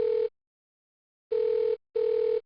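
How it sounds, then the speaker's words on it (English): A telephone dial tone sounds in a hotel room near an airport: three steady, loud bursts of a single tone, the first alone and then two close together after a pause. "Dad then made a phone call."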